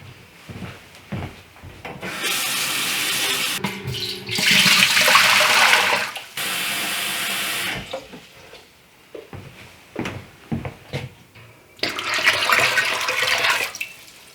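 Tap water runs and splashes into a large container to make turkey brine, with loud broadband gushing bursts separated by brief pauses and some rubbing and handling noises.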